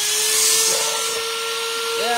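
Small electric grinder running with a high steady whine while grinding ginger in a kitchen, close and loud, with a pitch shift near the end as the load changes.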